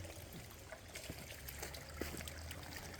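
Water trickles steadily into a small rock-built pool beside a hiking trail in the Appalachians, a soft, continuous outdoor burble with no talking.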